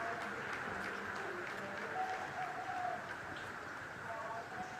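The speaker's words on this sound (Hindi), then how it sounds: "आप इस तालियों के गड़गड़ाहट को सुन सकते हैं" Scientists in a mission control room applaud during the Chandrayaan-3 lunar landing, a soft, distant patter of clapping heard faintly under an ongoing voice.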